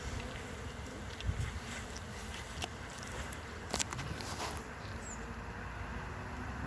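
Honeybees drone in a constant dense buzz as they are moved into newer Langstroth boxes, with a few faint knocks and shuffles under the hum.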